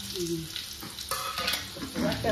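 Garlic and curry leaves fry in hot oil for a Konkani black pomfret (halwa) curry, giving a steady close sizzle with stirring scrapes and clatters throughout, louder toward the end.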